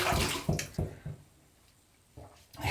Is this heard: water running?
yes